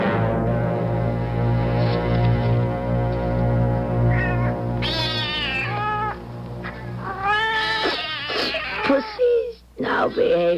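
Several cats in a radio drama meow and wail in drawn-out, overlapping cries, loud and close, rising into caterwauling over a sustained background tone, with a voice speaking briefly among them.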